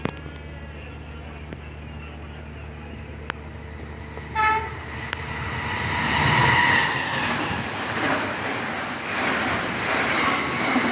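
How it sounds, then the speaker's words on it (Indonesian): The Logawa passenger train runs through Bayeman station at speed, crossing the Ijen Express, a rising roar of wheels and rail noise that swells and stays loud, with a brief horn-like tone early on. "Kereta api Logawa melintas langsung stasiun Bayeman, menyilang kereta api Ijen Express."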